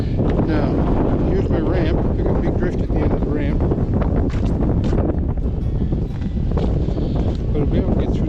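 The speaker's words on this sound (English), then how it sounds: "Ooh, that wind." Strong wind buffets the microphone outdoors in deep snow, a loud continuous roar and rumble throughout, with someone talking over it.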